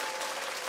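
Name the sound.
people clapping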